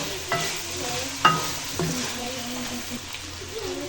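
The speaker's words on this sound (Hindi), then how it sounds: "ये देखिए मैं इसकी भुनाई कर रही हूँ" Chicken and unpeeled salted potatoes sizzle as they are sautéed and stirred in a pan. A steady frying hiss runs underneath, broken by a few sharp scrapes and clinks of the spoon.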